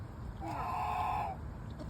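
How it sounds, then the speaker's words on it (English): A goose at a park farm gives one sustained nasal honk lasting about a second, moderately close over faint background noise. "Oh, it's the goose that's making the noise."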